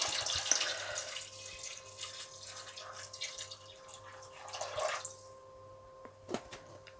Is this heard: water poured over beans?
yes